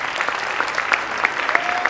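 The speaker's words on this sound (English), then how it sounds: "If you could just give her a round of applause" An audience at a school student recognition ceremony claps in a brief, dense burst of applause that holds steady throughout.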